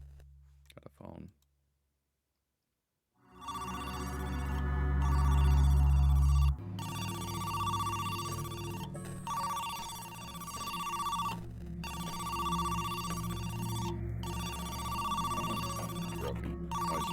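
A telephone rings in the video game Who's Lila?, with repeated ringing bursts separated by short gaps, preceded by clicks and a moment of silence.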